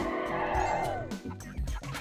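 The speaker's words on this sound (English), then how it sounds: "The more chicks you grab, the louder the chicken noises get." Cartoonish chicken clucking from the PS1 video game Mort the Chicken plays over busy game music and effects, a run of close, steady fowl noises with no talk.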